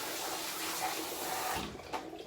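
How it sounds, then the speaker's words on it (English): Hair tools being rinsed under a strong stream of hot tap water, a steady hissing gush that shifts and splashes near the end as the tools move under it, with no talk. "I can rinse all the tools with a lot of pressure, hot water and pressure."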